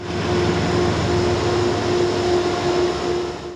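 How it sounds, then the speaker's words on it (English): A northbound Metro-North electric M7 train set on the Hudson Line, running on track 3 toward Croton, passes with a steady, loud rumble and a sustained whine that hold evenly throughout. "a northbound electric M7 train set heads for Croton on track 3"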